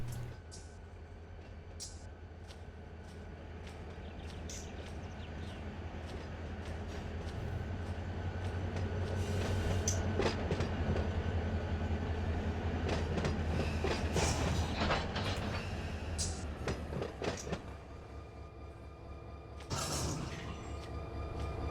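A freight train rolls along in the Run 8 Train Simulator v3 game with a continuous low rumble and rhythmic clickety-clack of wheels. The sound swells midway and adds brief wheel squeals and clanks near the end, with no speech.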